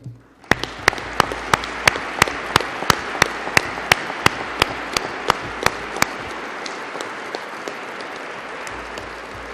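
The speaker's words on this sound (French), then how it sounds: "Je tiens à ce qu'on les applaudisse un petit peu" An audience at an Académie des sciences prize ceremony applauds the teachers, with one loud, regular, sharp clap close by standing out over a steady wash of crowd clapping that gradually fades.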